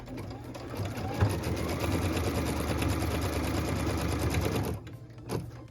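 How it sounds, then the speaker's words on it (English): An embroidery sewing machine stitches a cut line through quilt piecing in a hoop, a steady close mechanical whirr running continuously for several seconds before stopping, followed by a brief clunk. "What we're stitching now is the cut line, so piece number 3 can join our block"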